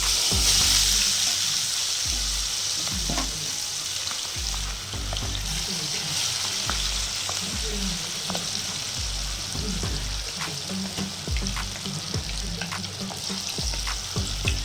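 Chilli chicken pieces frying in hot oil, a steady loud sizzle and crackle running throughout with occasional stirring scrapes, no talking.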